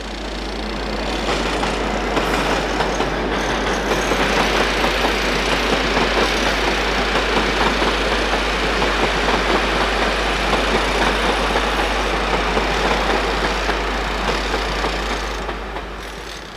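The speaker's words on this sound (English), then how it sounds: "Class 47s appear here on cross-country trains as well as freight." A British Rail Class 47 diesel locomotive hauls a cross-country passenger train, its heavy engine throbbing in a steady, loud, continuous drone with a deep low hum throughout.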